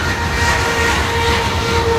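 A freight train hauling grain cars rumbles past at close range, a steady loud roar of rolling wheels and rail noise filling the whole stretch without a break.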